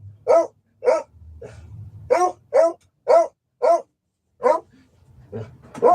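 A hound barks about nine times in a steady rhythm, each bark sharp, loud and close, with short quiet gaps between them.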